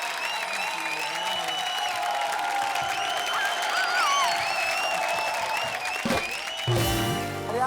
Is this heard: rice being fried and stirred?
no